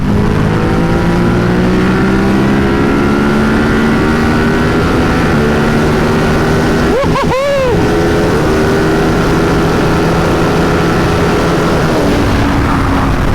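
A Buell Hammerhead 1190 motorcycle engine screams at high RPM under hard acceleration, loud and continuous with rising pitch. A brief dip near the middle sounds like a quick gear change, then the roar climbs again, with wind noise throughout.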